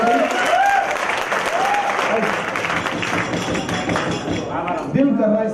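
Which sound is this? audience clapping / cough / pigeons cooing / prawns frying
audience clapping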